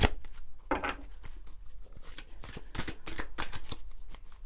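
Cards from an oracle deck are shuffled and handled near the mic, a run of quick papery riffles and flicks with crisp bursts throughout, no speech.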